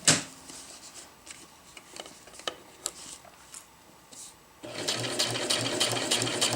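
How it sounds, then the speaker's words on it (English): Domestic sewing machine stitching a seam around the edge of a round zippered fabric bag, a quiet start of scattered clicks and handling, then a steady, continuous rapid needle whir running close and even. "now it's just a matter of sewing and smoothing around"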